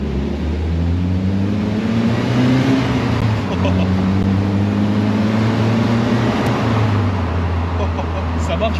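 Engine of a Ferrari 488 driving ahead on Monaco streets, a steady low drone with rising and falling rev tones, heard continuously from a following open vehicle with road noise and people talking over it.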